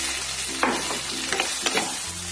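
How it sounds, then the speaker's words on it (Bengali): Fried potato and eggplant stirred into a sizzling pan of cooked tomato: a soft continuous sizzle with a few close scraping strokes, no talking, over quiet background music. "এখন এখানে আমি ভেজে রাখা আলু আর বেগুনটা ছেড়ে দেব"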